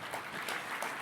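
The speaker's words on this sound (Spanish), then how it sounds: "Si es para el Señor, dale ese aplauso fuerte." A brief burst of congregation applause in a church, a steady, dense clapping from many hands lasting about a second.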